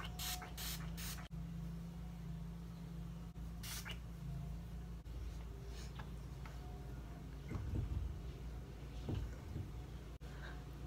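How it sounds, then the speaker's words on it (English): A coconut and sea salt beach-wave hair spray lets out a few short, hissing pump bursts near the start, followed by faint handling noises under a quiet background. "It's a sea salt, like beach wave spray, and it is coconut and sea salt."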